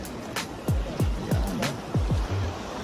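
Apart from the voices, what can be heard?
strong flowing water current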